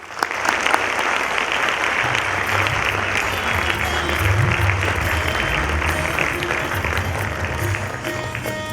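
Thunderous audience applause fills a hall as a managing trustee is welcomed at a Sri Sathya Sai event, a dense, loud, continuous clapping that holds steady throughout.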